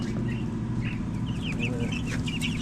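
Many small birds peep and chirp in high bursts over a steady low hum, a busy cluster of young chicks in a box close by.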